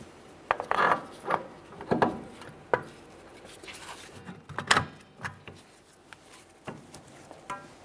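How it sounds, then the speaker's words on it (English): Rear wheel bearing and hub assembly on a 2007-2013 Acura MDX being slid over the axle and pressed against the backing plate, giving a series of close metallic clunks and scrapes at irregular intervals. "Let's get this in position by sliding it over the axle and press it in up against the backing."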